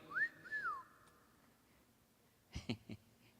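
A person whistles a short, clear rising-and-falling phrase near the start, followed later by a few sharp knocks, with no talking.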